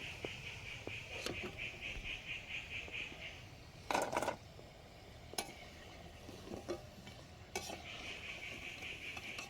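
French fries frying in hot oil, a steady soft sizzle with intermittent clinks and stirring knocks of a utensil in the pan, fairly quiet and close.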